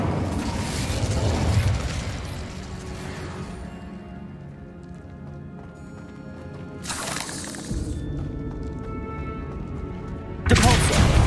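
Incendio fire spell bursts in Hogwarts Legacy, whooshing fiery blasts that flare up near the start, around seven seconds and again at the end over a rumbling game soundscape of music and effects.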